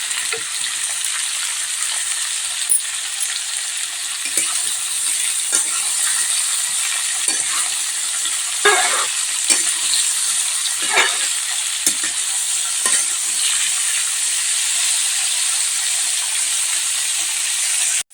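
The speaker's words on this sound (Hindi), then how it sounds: "नमक डाल करके अच्छे से इसको हम भून लेंगे।" Potato and pointed gourd fry with a little salt in a pan, making a loud, continuous sizzle throughout with repeated scraping and clinking as they are stirred.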